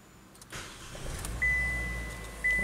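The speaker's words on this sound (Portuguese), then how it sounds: "E vamos dar a partida, ver se funciona o motor de arranque novo." A GM Cobalt with 11,000 km and a new starter motor cranks briefly and catches, settling into a steady close idle with a faint high electronic tone from the instrument panel.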